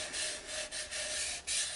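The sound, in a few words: hand sanding a wooden bowl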